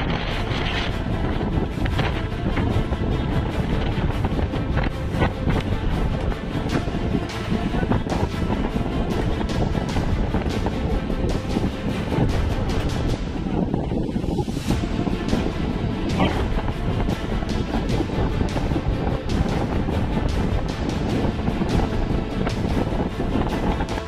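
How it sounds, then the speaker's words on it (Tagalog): Strong gusting wind roars across the microphone aboard a small boat at sea off Surigao, with waves and water rushing beneath, a dense, loud, continuous wash with no speech. "Grabe yung bugso, lalong lumalakas yung hangin mga kabising."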